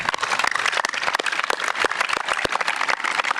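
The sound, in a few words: round of applause for the chapters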